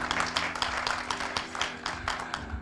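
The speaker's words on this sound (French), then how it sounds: "qu'on peut aussi applaudir" An audience applauding at a talk, with steady moderate clapping from a small group, fairly close and filling the short stretch without speech.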